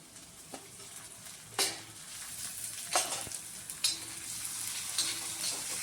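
Tomatoes sauté with browned onions in a pan, a continuous quiet sizzle punctuated by a few distinct stirring scrapes, with no talking.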